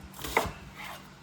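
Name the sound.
chopping onions coarsely with a knife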